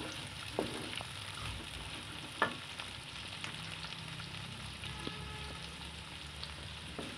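Onions frying in hot oil for a bhindi masala dish, a steady low sizzle with occasional stirring clicks and clatter, fairly faint and even throughout.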